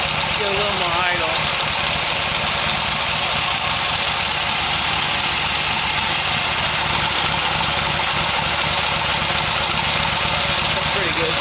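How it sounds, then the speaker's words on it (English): A 1972 Harley-Davidson XLH Sportster engine idles a little fast in a homemade build, a steady loping mechanical rumble close by, with someone speaking over it. "idling pretty good."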